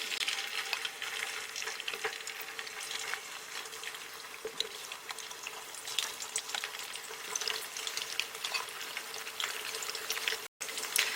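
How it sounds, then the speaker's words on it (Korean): Thin slices of meat blanch in hot oil for a Chinese tofu dish, giving a steady dense sizzle and crackle with occasional sharper pops, close and continuous with no talking. "얘는 튀긴다는 개념보다는 기름에 그냥 가볍게 데쳐서 전체적으로 그냥 하얗게 됐다 그러면 건져주시는 거예요"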